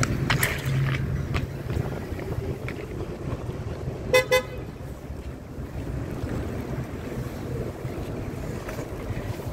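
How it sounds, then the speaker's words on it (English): A car horn gives two short, sharp honks in quick succession on a New York street, heard over steady wind rumble and passing traffic. "That guy honked to me, he was cool."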